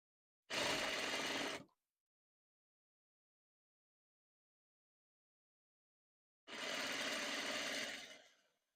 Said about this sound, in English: so I'm gonna start sewing from that point